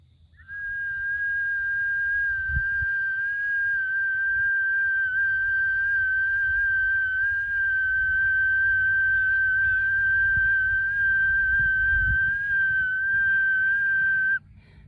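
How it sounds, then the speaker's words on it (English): A whistle is blown in one long, steady, piercing tone held for over ten seconds, close and loud, over faint rustling. "It's a lot easier to blow when your whistle's wet."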